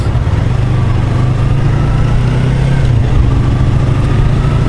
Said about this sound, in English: Such a tiny bike, it's great for the splitting like this.